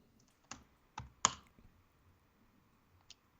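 A few separate computer keyboard keystrokes as a short command is typed, sparse clicks with gaps between them in a quiet room.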